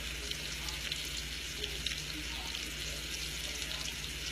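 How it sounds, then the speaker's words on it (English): Scallops sizzling in a hot pan, a steady, dense crackling hiss that holds evenly throughout at moderate volume, with no talking. "those scallops are cooking up good there"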